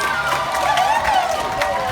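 Audience at a Sea Lion Splash show at Kentucky Kingdom cheers and claps, a dense, continuous wash of crowd noise with whistle-like tones on top.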